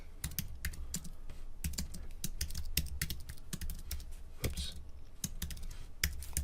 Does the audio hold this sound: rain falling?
no